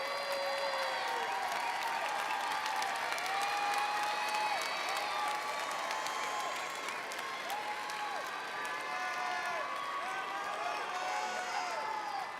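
Audience at a spring university commencement applauds continuously, with whoops and cheering voices rising over the soft, distant clapping, all at fairly low volume.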